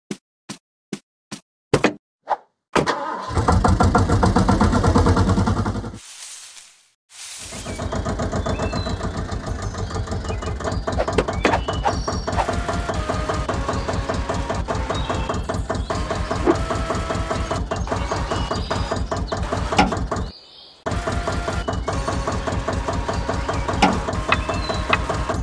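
A toy truck's engine in a kids' building-vehicles game rumbles steadily at idle after a few quick plopping taps, cutting out briefly twice before settling back into an even, close, continuous hum.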